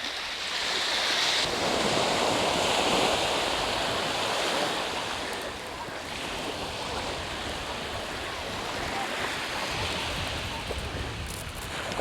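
Ocean surf washing onto a cold beach, a steady broadband roar of breaking waves mixed with gusting wind across the microphone, continuous and fairly loud for the whole stretch.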